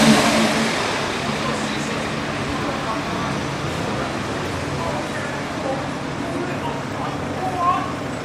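A Honda car engine revs, passing in a garage, a loud rising rev at first that settles into a steady engine and road rumble with a brief swell near the end.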